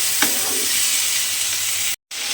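Raw green tomatoes with salt are stirred in a cooking pan, giving a steady close sizzle with faint scraping and a brief moment of silence near the end.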